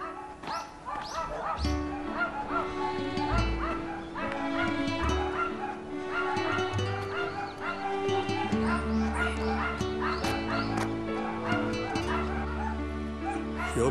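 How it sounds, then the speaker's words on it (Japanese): A dog barks and yips repeatedly while brown-eared bulbuls call and chatter on a Shikoku pilgrimage path in Tokushima, with both sounds layered and fairly close throughout. "ひよどりと犬の声"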